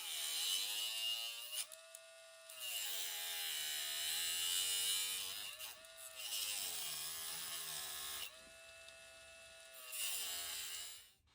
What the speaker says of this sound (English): I'm just going to carefully cut through the styrene now